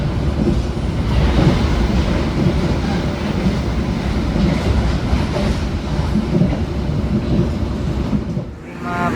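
The Sancaka Utara passenger train runs on rails with a loud, continuous rumble and rhythmic clickety-clack of wheels throughout, heard from on board, easing off near the end.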